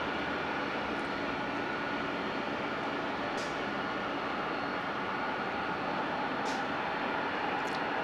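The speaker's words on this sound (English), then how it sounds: "It appears to be Southwest Airlines Flight 2467 going to San Jose, 737-700." A Southwest Airlines Boeing 737-700 jet at LAX, bound for San Jose, gives a steady, moderately loud broadband engine roar that holds evenly throughout, with no talking.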